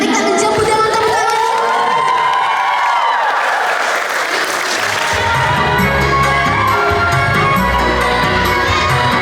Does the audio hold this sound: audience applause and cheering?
yes